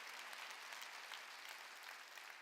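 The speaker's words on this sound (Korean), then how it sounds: "왕자와 공주 깨달은 사람만 박수 치라." Church congregation at a Sunday worship service clapping together, a steady, even patter of many hands applauding throughout, somewhat distant and moderately quiet.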